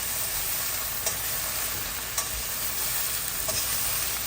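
Okra sabzi fries in a pan over medium-high heat, a steady close sizzle broken by a few soft clicks of a spoon stirring, with no talking.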